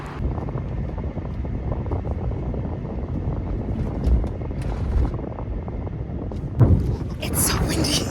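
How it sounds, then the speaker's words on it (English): Strong wind buffets a microphone outdoors on the way to a movie premiere, a constant low roaring rumble with gusty swells, while people talk briefly over it. "It's so windy."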